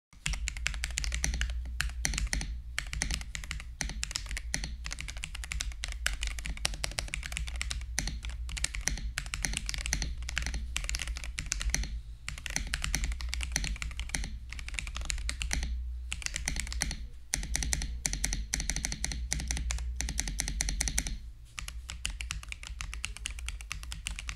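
Steady typing on a Higround Snowstone Base 65 mechanical keyboard with silicone foam between case, PCB and plate, heard up close, rapid clacking keystrokes with occasional short pauses and a low background hum.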